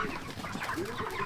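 Chickens packed in a coop on a Jamaican broiler farm, big birds about six weeks old, give a steady mix of close murmuring clucks and coos throughout the short stretch, with no talking.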